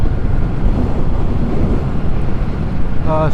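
Heavy wind buffets the microphone while riding a Yamaha MT-07 motorcycle, a loud steady low roar that fills the whole stretch.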